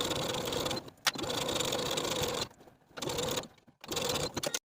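A sewing machine stitches a vest side seam in steady whirring runs, pausing briefly between passes, fairly close and moderately quiet.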